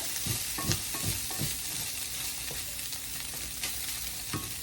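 Onion pieces cooking in a pan for a cheeseburger casserole, giving a steady soft sizzle with a few spoon scrapes and stirring knocks, close and moderately loud.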